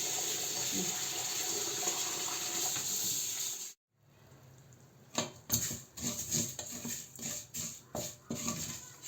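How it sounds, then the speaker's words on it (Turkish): Rice being washed in water for a Turkish sütlaç: a steady tap runs and splashes for a few seconds, stops abruptly, then gives way to irregular close sloshing and patter bursts as the grains are swirled. "Pirincimi yıkayayım."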